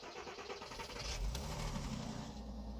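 A 2002 Porsche Boxster with a manual gearbox cold-starts on 93 octane fuel: a brief crank, then the engine catches and settles into a steady idle near 1100 RPM, heard fairly faintly and with no talk.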